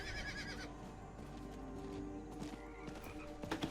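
Horse hooves in the Diablo 4 video game, a soft clip-clop of riding steps over a steady low ambient game background, fairly faint, with a brief whinny-like tone and a few sharper clacks near the end.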